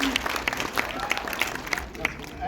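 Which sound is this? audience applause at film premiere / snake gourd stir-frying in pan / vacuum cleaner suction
audience applause at film premiere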